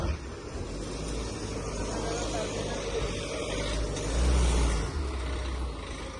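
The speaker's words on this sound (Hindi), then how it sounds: "ये हमारी गाड़ी आ रही है।" A car arrives at a dharamshala in Vrindavan with a steady engine rumble and road noise that swells louder near the end, under busy street ambience and speech.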